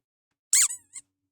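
A rubber squeaker toy is squeezed once, giving a sharp close squeak followed by a fainter secondary squeak, then silence.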